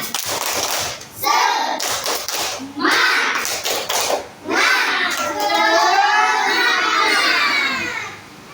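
A group of adults in a classroom clap together in a quick patterned rhythm for an ice-breaker cheer, the claps tangled with shouted voices and chanting that swell loudly throughout.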